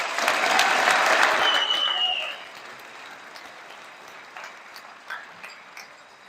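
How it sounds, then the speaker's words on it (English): Banquet crowd applauding the seniors at a high school football awards dinner, with a burst of clapping and a few cheers filling the room for about two seconds before fading into scattered claps and murmuring. "let's give the seniors a round of applause."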